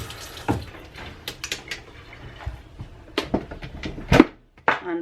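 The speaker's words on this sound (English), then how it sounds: "Rinse it off." Water from a faucet splashes intermittently while an appliance is rinsed off in a sink, with uneven gushes, clinks and spatters at close range.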